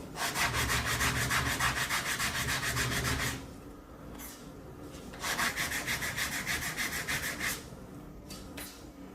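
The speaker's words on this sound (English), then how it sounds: "you can either sand like this, or like this" Hand sanding a wooden xylophone, rapid rhythmic back-and-forth rasping strokes close up, a long steady run, a pause with faint scuffs, then a second shorter run of strokes.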